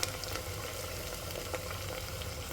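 Onion and potato fry in a pan with peanuts added, giving a steady, close sizzle with scattered crackles and a soft clink near the middle, with no voices.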